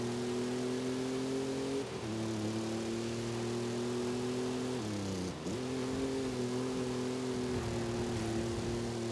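A car engine races during a Forza Horizon 5 road race, holding a steady, loud droning pitch with brief dips at gear shifts, and no talk.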